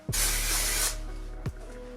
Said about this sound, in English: I feel like this hairspray is gonna help it stay